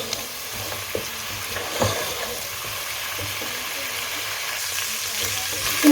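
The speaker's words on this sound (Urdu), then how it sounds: "اب ہم ان کو اچھے سے بھون لیں گے۔ فلیم ہم میڈیم کر دیں گے اور اس کی اچھے سے بھنائی کر لیں گے۔" Spiced mutton or beef masala frying and being stirred in a pan over a medium flame, a steady close sizzle with soft scraping stirs and small clinks throughout.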